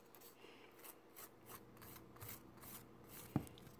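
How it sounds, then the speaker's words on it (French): A nail file rasps gently over a UV gel fingernail in soft, rhythmic strokes, faint and close, with a small tap near the end. "Puis on va limer."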